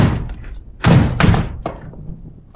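In a Spanish suspense radio drama, a locked door is shoved hard, giving two heavy thudding slams close together, followed by a smaller knock, with a voice briefly audible between the impacts.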